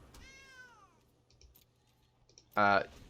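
Sacred Cat card played in the MTG Arena video game, giving a clear synthesized meow at the start with faint clicks after, then a loud bright burst of game sound near the end; someone talks under it.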